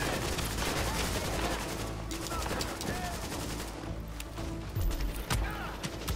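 Rapid gunfire rattles through a firefight in Tom Clancy's The Division, with dense bursts of automatic shots and sharp single cracks, loud and continuous throughout with a few heavier reports toward the end.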